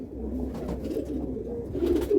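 Low, soft cooing of Madrasi pigeons close by, a throaty repeated murmur that swells near the end.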